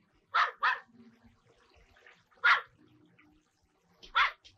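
A dog in an old Turkish film barks sharply four times, a quick pair followed by two single barks, loud and close against a quiet background.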